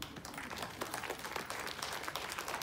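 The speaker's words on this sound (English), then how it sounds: "One round of clap for all of you." Faint, distant applause from an audience at a women's educational institution in India, a soft continuous patter of many hands with no voices over it.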